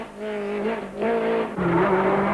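Volkswagen rally car driving a muddy forest stage in 1992, its engine revving hard through gear changes, pitch climbing then dropping in three rising surges, close and loud with tires scrabbling.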